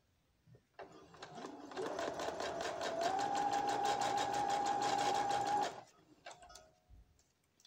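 A sewing machine stitches fabric for baby booties. It starts up, rises to a steady, fast mechanical whir with rapid stitching clatter for about five seconds, then stops.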